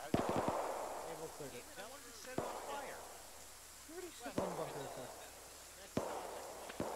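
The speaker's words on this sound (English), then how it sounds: "Somebody's shooting at me." Scattered gunshots in the WWII shooter Iron Front, a few sharp cracks at uneven intervals, moderately distant, under voices talking.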